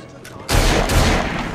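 Gunfire in the video game Assassin's Creed Syndicate: a sudden loud burst of shots after a quiet lead-in, continuing as a dense, rolling volley to the end.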